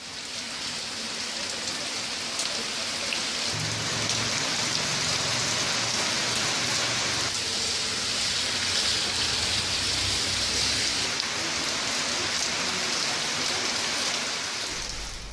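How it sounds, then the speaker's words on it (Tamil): Heavy rain with strong wind in Pudukkottai pours down in a steady, dense hiss of drops drumming on surfaces, continuous and close throughout, with no voices. "புதுக்கோட்டை மற்றும் அதன் சுற்றுவட்டார பகுதிகளில் சூறைக்காற்றோடு மழை பெய்தது"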